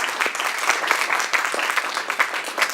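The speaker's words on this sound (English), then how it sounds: "So let's give them a round of applause." A conference crowd claps steadily for a few seconds, dense and even applause without cheering.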